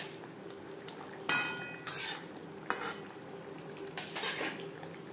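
A spoon stirs potato and cauliflower curry with ghee and garam masala in a metal pot, giving several sharp clanks and scrapes against the pot over a low, quiet background.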